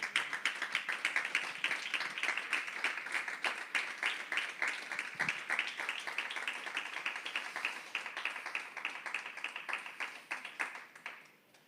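A church congregation claps in a quick, uneven patter during a Sunday service, moderately faint and fading out at the end, with no talk over it.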